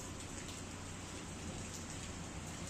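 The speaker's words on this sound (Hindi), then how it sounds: "अभी बारिश भी हो रही है।" Steady rain falling in the hill town of Mussoorie, a dense, even hiss of drops on surfaces that continues without a break, with no voices over it.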